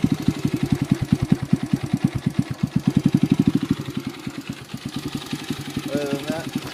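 A 2002 Yamaha TT-R 125 dirt bike with a Pro Circuit exhaust idles close by, its single cylinder thumping in a steady, rapid putter that loosens and grows slightly uneven toward the end.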